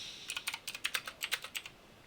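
Rapid keystrokes on a computer keyboard during setup of a Huawei SmartAX MA5616 DSLAM, about fifteen crisp, close clicks in an uneven burst with no voices.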